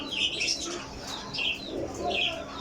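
Desi flying pigeons kept in Sarai Alamgir, Jhelum, chirp and coo close by, with soft wing flutters and faint background noise.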